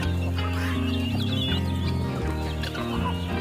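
A crowded group of large and small chickens clucks loudly and continuously around feeding time, with many overlapping close-up calls and no talk.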